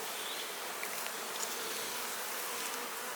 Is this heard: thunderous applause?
no